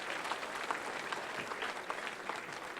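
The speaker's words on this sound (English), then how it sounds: "Give yourselves a round of applause" A crowd at the 2015 Manitoba Softball Hall of Fame induction ceremony applauds steadily, a fairly faint, even wash of many clapping hands with no talk on top.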